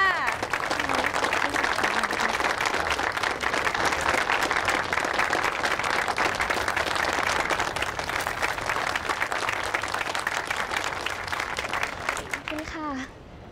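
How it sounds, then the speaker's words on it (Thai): An audience at an art event applauds the artist Rin, with dense, sustained clapping throughout that fades near the end as a voice begins. "ขอเสียงปรบมือให้คุณรินด้วยค่ะ"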